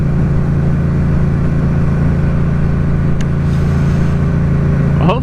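Riding a Yamaha FZ-07 motorcycle, heard through a helmet microphone: a steady low engine drone and wind rush that stays constant and fairly loud, with no talking.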